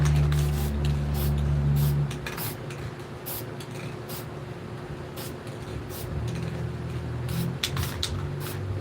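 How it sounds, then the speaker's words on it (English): Spray paint can hissing paint onto paper for a streetstyle nature scene: several short spurts followed by a long steady hiss, close and fairly loud, with a low background hum in the room. "we're just going to spray the paint directly onto the paper"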